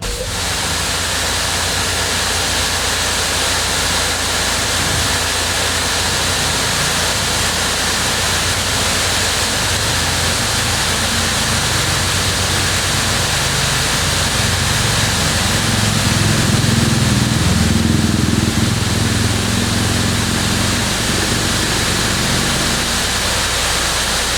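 An Adam's Pro Series electric pressure washer sprays steadily through its factory nozzle, a loud, dense, continuous hiss of water with the motor droning underneath and no breaks.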